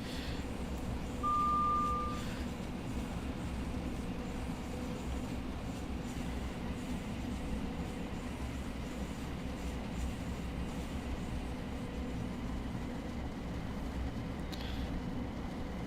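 A train in Train Sim World 4 runs through south-east England with a steady, loud rumble of wheels and motor, a faint squeal early on and a constant drone throughout, with no talk.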